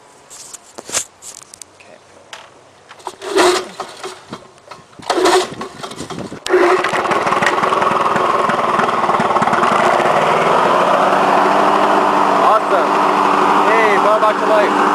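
A Lawnboy 8243ae lawn mower engine, set on choke, gets a few hard pull-cord yanks with sputters between them, then catches and runs at a loud, steady high-pitched roar to the end.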